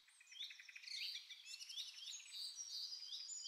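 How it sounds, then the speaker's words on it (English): Birds chirping in a forest, a steady stream of thin high tweets and trilling calls overlapping at moderate distance, soft and continuous without voices. "Birds chirped overhead, and the gentle rustling of leaves added a soothing melody to his stroll."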